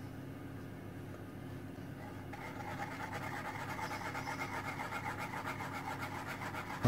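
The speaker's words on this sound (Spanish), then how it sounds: "Y vamos a poner en un colador y quitamos todas las venas." Foie gras pressed and rubbed through a metal strainer to pull out the veins, a steady close scraping and rubbing that grows louder partway through and keeps going without pause.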